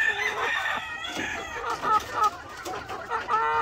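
Sweater-asil cross chickens, pullets, cluck and crow in a lively run of calls, some near and loud, others overlapping in the background.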